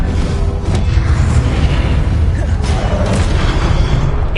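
A booming Confringo spell explosion in Hogwarts Legacy, loud and close, with repeated bursts blending into a dense roar of spell effects throughout.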